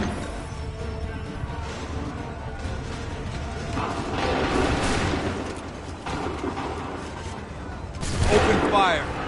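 Musket volleys crack out in Assassin's Creed 3 as gunfire erupts in dense, overlapping bursts over a noisy battlefield din, swelling loudest near the end, with shouted commands mixed in.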